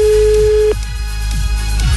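A telephone call tone plays during a radio prank call, a loud steady tone for the first three quarters of a second followed by quieter periodic ticks and line noise.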